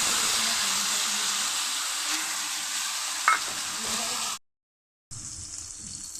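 Spice paste hitting hot oil in a pan for a Bengali raw banana dhoka curry, a steady close sizzle and hiss with stirring scrapes, cut by a brief silence before the frying resumes.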